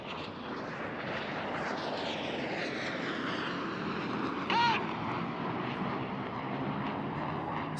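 Display jets at an air festival in Bournemouth pulling hard through a turn at full power, a broad roaring engine wash that slowly shifts in pitch, distant and continuous, with a brief whistle-like tone partway through.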